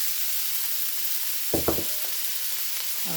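Peppers, zucchini and other vegetables sizzling in a stir-fry pan for ramen noodles, a steady bright hiss throughout, with a couple of brief clinks midway.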